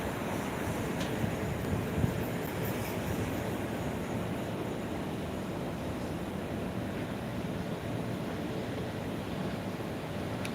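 An Air Asia airliner approaches Phuket International Airport in the evening, a steady broadband jet roar that holds at one level throughout, heard from a distance like rushing wind with no voices.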